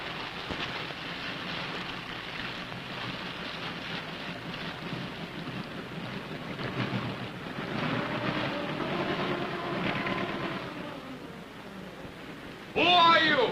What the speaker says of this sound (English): Get below and cut those engines.